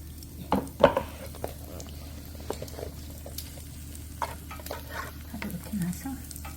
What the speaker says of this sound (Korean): 김치도 같이 넣어서 볶아서 먹을 거예요